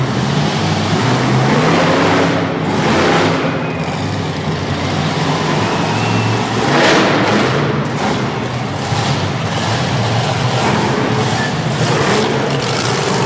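A monster truck engine roars loudly through a freestyle run in a Harrisburg, Pennsylvania arena, with sustained revving, surges of acceleration and occasional heavy thuds against a steady crowd-and-engine din.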